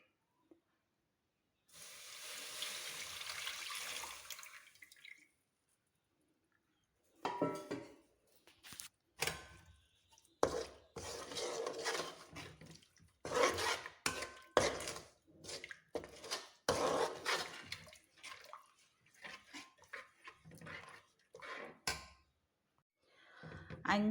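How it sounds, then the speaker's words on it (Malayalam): Water drained from sliced mangoes is poured into a hot pan of spiced masala for Kerala mango pickle. It sizzles and hisses in bursts between quiet pauses, with soft scraping and clatter from stirring. "മാങ്ങയിൽ നിന്ന് ഊറ്റിയെടുത്ത ആ വെള്ളം ഒഴിക്കാം."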